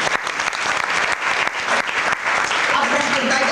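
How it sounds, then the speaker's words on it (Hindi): An audience at an Om Shanti gathering in Biratnagar applauds loudly for Amit; vigorous continuous clapping fills the space, with a few crowd voices mixed in beneath it. "जोरदार तालियां बजाइए अमित के लिए।"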